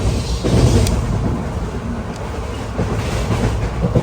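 Inside the Executive Express from Kannur to Alappuzha, running at about 100 km/h after dark, a loud, unbroken rumble of wheels and carriage fills the whole stretch, with faint clacking and no speech.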